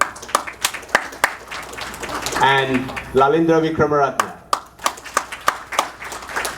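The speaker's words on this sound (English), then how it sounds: "Please give them another round of applause," An audience at the inauguration of the Sri Lanka America Chamber of Commerce claps in steady scattered bursts that swell into fuller applause, moderately close, while a speaker reads out names over it.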